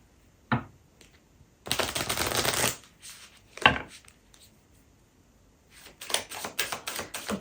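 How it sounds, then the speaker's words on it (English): Lenormand cards shuffle in several separate bursts, each a quick riffling rattle. Sharper taps and clicks sit between them in a quiet room, with no voice. "I mix for a long time and then I just cut in between, so you don't have to see all the shuffling"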